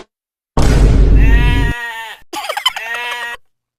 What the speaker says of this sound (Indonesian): Kambing siapa nih anjir?